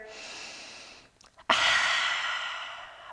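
Deep breathing during a yoga forward fold in a sun salutation sequence: a long, airy exhale, a brief pause with a soft intake, then a strong, close breath rushing out and slowly fading.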